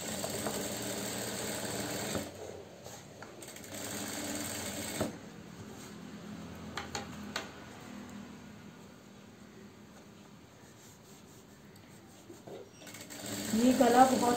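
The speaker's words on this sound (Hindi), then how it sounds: "देखिए ऐसे करके दोनों को दबा के सिल लेना" A domestic sewing machine stitches the half collar onto a kurta neckline, its steady motor whir running in bursts between pauses, with a voice speaking over it.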